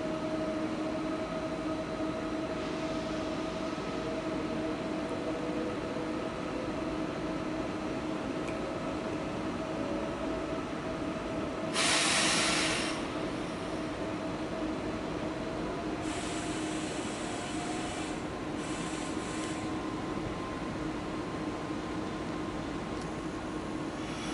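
Train at Frankfurt Hauptbahnhof, a steady low rumble and hum of a railcar with a faint tonal whine, brief hissing bursts partway through, continuous and moderately quiet.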